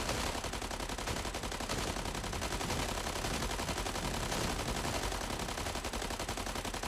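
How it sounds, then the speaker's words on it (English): Dense, continuous automatic gunfire from the mech combat game Mech Arena, a rapid unbroken rattle of shots at steady loudness throughout. "So many bullets flying everywhere."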